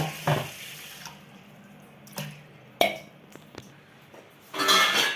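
Water runs from a tap in short bursts, with clinks of a dish and a louder rush of pouring into a bowl at the end; no one speaks.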